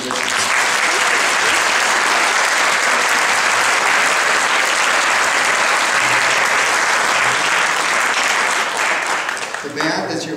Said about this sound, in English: how about another hand for these wonderful musicians?